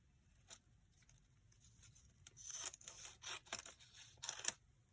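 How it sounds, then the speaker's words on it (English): Scissors cutting paper into fourths: a series of quiet, close snips and crisp paper rustles in irregular bursts, growing busier toward the end, with no talking. "And then cut it in fourths."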